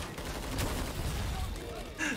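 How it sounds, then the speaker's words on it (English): Sustained, dense gunfire in Killing Floor 2 on the Bikini Atoll map rattles close and heavy as shots are sprayed blindly toward a doorway, with voices talking over the din. "I've just been shooting to the doorway, hoping I hit stuff."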